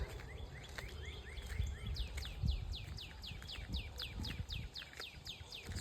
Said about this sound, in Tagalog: Narinig nyo ang huni ng mga ibon